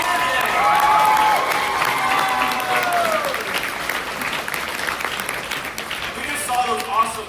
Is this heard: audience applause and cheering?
yes